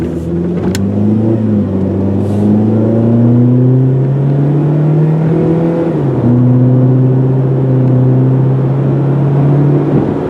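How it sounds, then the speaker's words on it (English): A 2003 Saturn Ion 1 car engine pulls hard, pitch rising steadily, then dips sharply at a gear change and climbs again, loud and continuous with no talking. "let you guys listen to the car accelerate and shift through the gears"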